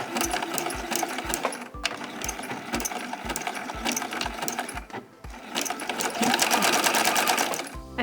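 A sewing machine zigzag stitches a shoe bag, running loud and close with a fast steady needle thump, briefly pausing, then resuming at a brisk, even pace.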